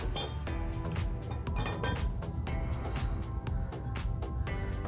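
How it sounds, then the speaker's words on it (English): A metal grille guard bracket and two bolts from a Toyota Tundra install being set down, giving a few light metallic clinks over a steady background hum, close and moderately loud. "I'm gonna set this bracket and the two bolts aside"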